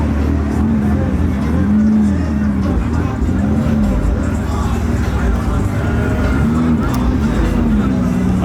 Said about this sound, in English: Unspeakable's leaving in the GT3 RS